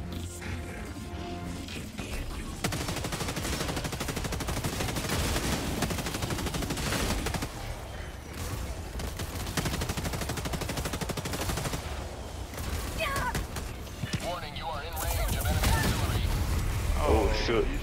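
Sustained automatic gunfire and explosive impacts from the video game Helldivers 2, dense rapid bursts crackling almost nonstop with heavier booms near the end, while players talk over the action.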